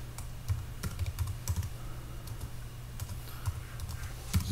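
Typing on a computer keyboard while naming a new preset in Lightroom: quick, fairly soft key clicks in irregular bursts, close by and alone with no talk.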